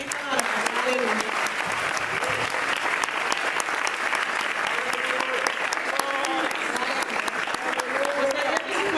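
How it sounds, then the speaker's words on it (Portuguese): Loud, sustained applause fills a children's church service, dense clapping running steadily from start to finish while voices carry over it. "Vamos dar uma salva de palmas para o Senhor"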